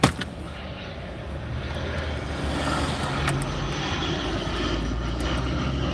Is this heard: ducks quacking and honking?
no